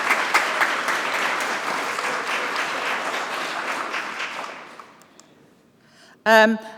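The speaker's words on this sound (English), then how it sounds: "please do just give a big round of applause to everybody who's contributed to the program this year" Sustained applause from a conference audience, dense and steady, fading out over several seconds before a brief burst of sound at the end.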